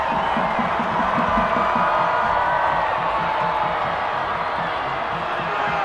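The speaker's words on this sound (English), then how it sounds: "The crowd going nuts here, and this is not when you want to make noise." Loud high school football crowd at Green Canyon versus Sky View, a dense sustained roar of cheering and shouting with a rhythmic chant-like pulse underneath, steady for the whole stretch.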